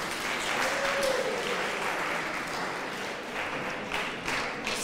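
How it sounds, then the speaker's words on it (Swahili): An audience applauds a judge at a Kiswahili arts event at a secondary school, a dense, continuous wash of clapping from many hands lasting throughout. "mpige makofi jaji wetu"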